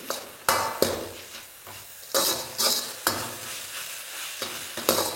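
Spices being stirred together in a pot for vegetable thukpa, heard as a series of scraping strokes about every half second to a second over a light, steady sizzle.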